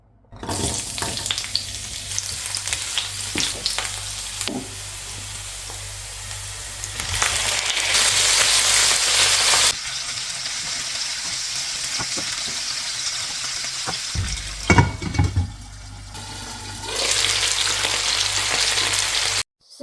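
Chicken pieces seasoned with balsamic vinegar and salt fry loudly in a pan, a steady crackling sizzle that swells and eases over time, with occasional clatters of stirring and no talk.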